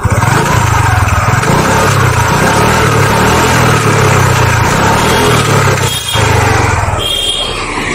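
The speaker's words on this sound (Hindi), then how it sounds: "मैं आपको सिर्फ ओवरव्यू के लिए बता रहा हूँ कि इंजन का ये साउंड है" A TVS motorcycle engine running at a service shop, a steady loud mechanical drone with a low throbbing pulse and a brief dip and change near the end, no talking over it.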